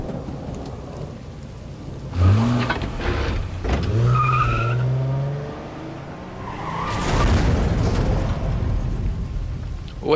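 In the Silent Hill 2 Remake video game, a car skids and crashes off a bridge amid a rainstorm: tires screech and metal rumbles twice over steady rain and thunder-like roar, with no talking.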